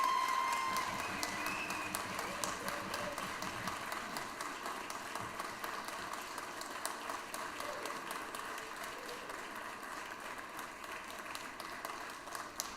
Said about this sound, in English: let's give Brandon a big round of applause